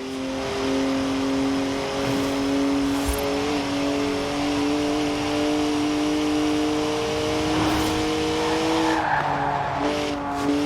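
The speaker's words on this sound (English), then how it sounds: "Three-litre straight six, 335 horsepower, 2 turbos, and as much sideways action as you like" Three-litre straight-six twin-turbo BMW with 335 horsepower driven sideways, its engine holding a steady loud drone while the tyres squeal continuously through a long drift, heard close and without any talking.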